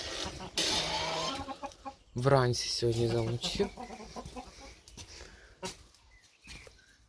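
Hens clucking and squawking in bursts, close by, with someone talking over parts of it and some rustling.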